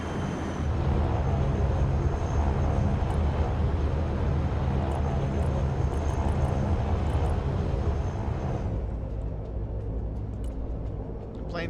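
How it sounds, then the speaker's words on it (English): Transport plane engine in the Broken Arrow video game, a steady loud droning roar with rumbling low end that continues throughout, thinning out near the end. "now the plane's going to high altitude"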